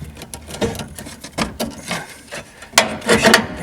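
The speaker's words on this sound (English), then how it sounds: "Now I'm going to slide the hook in." Steel factory tow hook sliding into its bumper bracket on a fourth-generation Dodge Ram Sport pickup, giving a series of short scraping, rubbing metal clicks and knocks close by, with a louder grinding scrape near the end.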